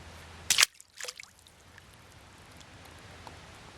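A waterproof MF 213C bite-alarm detector, tied to a fishing line, is thrown into water, giving one short, sharp splash followed by a few faint drips and then quiet.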